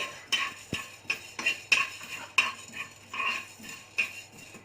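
Coriander seeds are dry roasted in a pan, with a utensil stirring and scraping them in a string of light metallic clinks and rattles, close by and irregular, with no talking.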